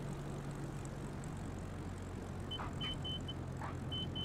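Steady droning propeller engine of a simulated plane easing off speed on approach to land, with intermittent electronic warning beeps appearing partway through; no voices.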